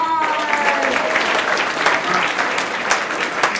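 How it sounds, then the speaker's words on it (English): A school rally crowd applauding a speaker, dense loud clapping that holds steady for several seconds without letting up. "give Scotty a round of applause"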